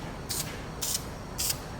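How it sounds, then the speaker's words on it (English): Three short, sharp hisses of Wrinkle Plus spray paint from an aerosol can, applied in quick bursts onto a metal bracket for a forged turbo M50 BMW E30, close and evenly spaced with a quiet pause between each. "I'm gonna paint the bracket with some Wrinkle Plus."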